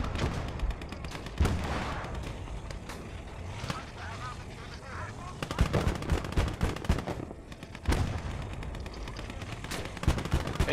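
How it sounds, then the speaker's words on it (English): Machine-gun fire in the WWII strategy game Gates of Hell: Ostfront, with rapid bursts and scattered shots rattling across a busy battlefield mix, with voices in the background. "No, that is the machine gun."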